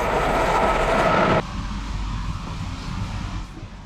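A train rumbles along, heard from on board as a continuous close interior roar with a loud broadband hiss that abruptly drops to a quieter low rumble partway through.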